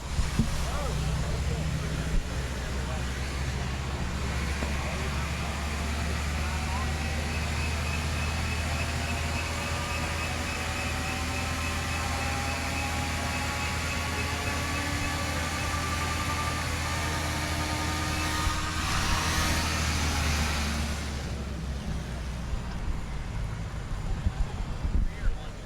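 A Hammelmann high-pressure water pump runs at a trade demonstration, giving a steady, loud, continuous roar with a low machine hum underneath that holds for the whole stretch and thins out briefly near the end.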